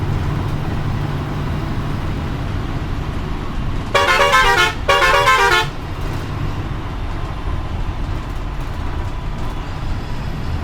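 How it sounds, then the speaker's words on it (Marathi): A white Gosavi seater bus on the Shiroda–Vengurla route passes on the road and sounds its horn in two short, loud honks midway, over steady traffic rumble. "चला अजून एक बस स्पॉट झाली आहे, गोसावी, शिरोडा ब्रँड, शिरोडा वेंगुर्ला."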